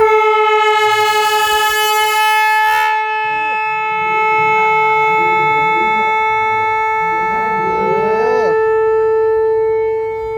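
A loud, sustained melodic horn tone rings steadily from a departing Shinkansen Nozomi high-speed train, with faint voices and station noise underneath.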